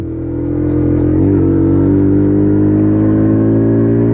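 A WK Colt 50cc motorcycle accelerates in third gear, its small engine buzzing loud and close with a steady rising drone after a brief dip near the start.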